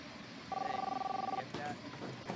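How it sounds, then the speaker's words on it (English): In the video game Captain Spirit, a phone rings with a single pulsing electronic trill lasting about a second, followed by a short second tone; quiet and steady against low background noise. "Oh, that's in the game. I thought that was my phone."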